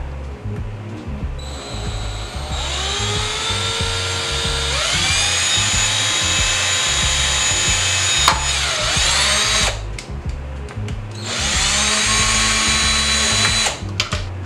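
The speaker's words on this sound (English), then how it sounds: "I'm gonna drill" A small electric drill with a 1/16-inch bit whines in several long bursts, winding up and down in pitch between runs, close by and loud.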